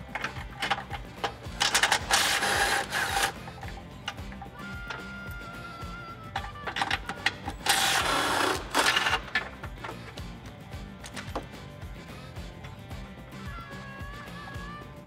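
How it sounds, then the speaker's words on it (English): Socket wrench ratcheting off the 18 mm front bumper nuts on the frame rails of a Jeep Wrangler JL, with short bursts of clicking and whirring spread through, close and moderately loud, separated by quieter handling noise. "We're gonna use an 18 millimeter socket to get all those out."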